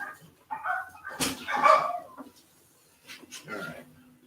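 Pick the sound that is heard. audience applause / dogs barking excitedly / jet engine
dogs barking excitedly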